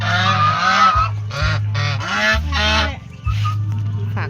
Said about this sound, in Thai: อันนี้ก็คือห่าน